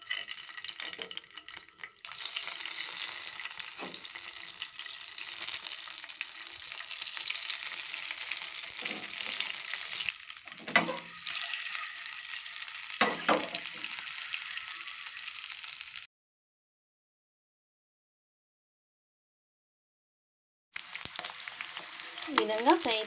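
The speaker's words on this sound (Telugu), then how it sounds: "ఆయిల్ వేడైన తర్వాత మనం ఉడికించిన కోడిగుడ్డుని వేసి ఫ్రై చేసుకోవాలండి" Boiled eggs sizzle and crackle in hot oil in a kadai, a continuous frying hiss broken by occasional stirring scrapes, then a brief silence before the sizzling resumes.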